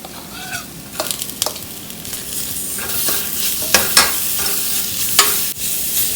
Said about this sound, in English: So make sure you saute the ginger and garlic paste till the raw smell goes away.